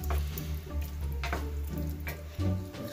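Hot dogs and beans with butter and sugar being stirred in a pan, giving a steady close sizzle with soft scraping spoon movements throughout.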